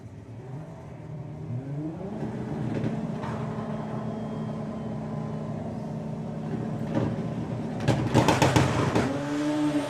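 Two drag racing cars launch off the line at a sportsman nationals meet, engines rising in pitch as they accelerate away, loud at first then swelling again with a brief roar near the end.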